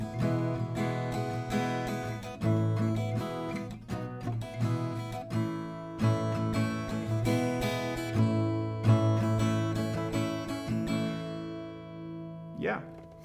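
Acoustic guitar strummed in a steady repeating down-and-up pattern through a round of a song, sustained chords ringing close and clear, with a brief spoken word near the end.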